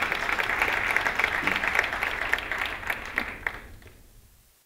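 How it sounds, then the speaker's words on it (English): Audience applause at a planetarium event, dense clapping from a gathered crowd that holds steady and then thins and fades away toward the end. "we must give a special round of applause to those who were involved in putting it together"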